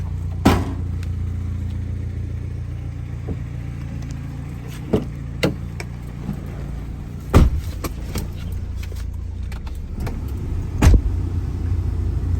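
A Honda City Type Z with a manual gearbox idling or moving slowly, giving a low steady engine hum broken by occasional clicks and thumps from the car interior, with no talking.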